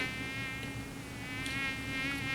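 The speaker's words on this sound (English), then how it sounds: "The only complaint that I have is the mosquitoes though." Mosquitoes at a beach give off a steady, high, thin whine that holds at an even level throughout, fairly quiet and close, with no talking.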